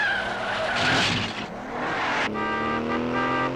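Tires squeal as a car drifts through a rally race in the 1969 James Bond film On Her Majesty's Secret Service, a loud skid followed by a revving engine over orchestral music.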